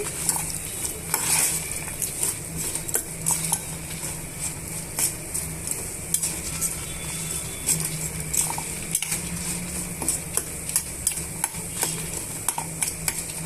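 Peanuts and okra roast in a pan for okra chutney, with a spoon scraping and stirring in a steady run of clinks and soft sizzling, close by and free of talk.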